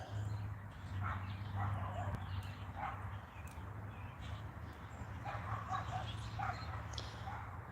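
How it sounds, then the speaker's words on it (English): Neighbor's dogs yapping and barking in short intermittent bursts, moderately distant, over a steady low hum in an outdoor rural setting with faint chirps. "And of course the friggin' neighbor's dogs."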